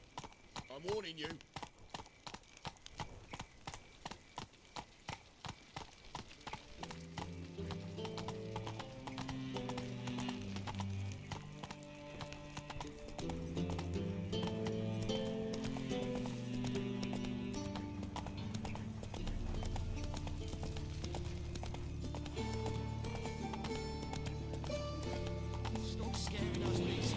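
Hooves of Roach, a horse in The Witcher 3, clip-clop rhythmically and speed into a steady gallop, loud and continuous over game music, with a brief whinny near the start and some talk.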